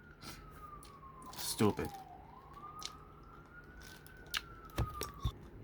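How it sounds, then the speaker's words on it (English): Emergency vehicle sirens wail faintly in the distance, the tone sliding down and then back up as they pass, while a voice and some louder knocks and thumps come in close by. "Now that the sirens pass by."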